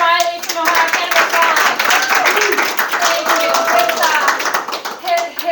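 Audience applause at a cannabis industry meet-up presentation in Columbus: a room of people claps briskly and steadily, close and fairly loud, with a few voices and bits of talk mixed in.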